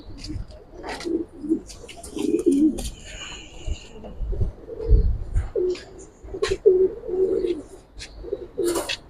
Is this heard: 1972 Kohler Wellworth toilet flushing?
no